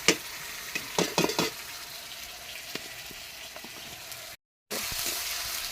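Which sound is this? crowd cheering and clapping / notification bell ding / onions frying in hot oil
onions frying in hot oil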